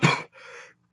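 A man with a recurring cough lets out short, sharp coughs close to the microphone, a harsh burst followed by a softer breathy exhale and another abrupt cough.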